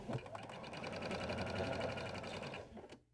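A sewing machine stitching pillow fabric pieces together, a fast steady mechanical whir with rhythmic needle ticks running continuously for about three seconds before stopping abruptly.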